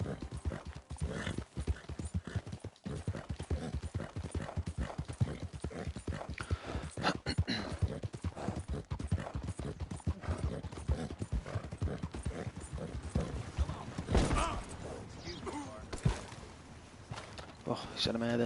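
Steady clip-clop of video-game horse hooves trotting at a brisk, even rhythm on PS4, close and continuous throughout, with a brief whinny-like sound near the end.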